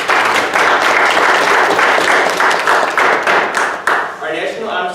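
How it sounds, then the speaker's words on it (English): A loud round of audience applause at a high school National Honor Society ceremony, dense clapping that holds steady, then thins out and fades near the end. "Please give her another round of applause."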